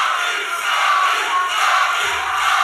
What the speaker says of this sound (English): Partisan crowd here cheering for their hero.